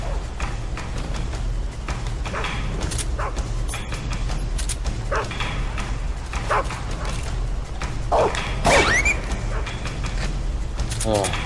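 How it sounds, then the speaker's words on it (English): Dogs in the Metal Gear Solid 3 video game bark, yip and whimper while attacking in a tunnel, sounding as sharp repeated bursts over game noise and music, with someone talking throughout. "it's like shooting dogs in a tunnel"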